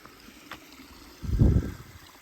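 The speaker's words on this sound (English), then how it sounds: "Must be a pipe spring up there somewhere." Water gushes briefly from a pipe spring beside a trail just past a bridge, a short, close, rushing splash swelling and fading against quiet outdoor background.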